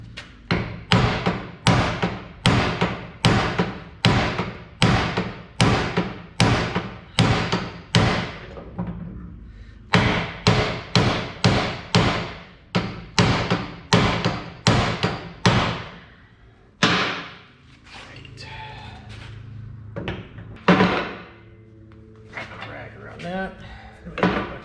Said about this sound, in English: I'm using a brass hammer so I can beat on the end here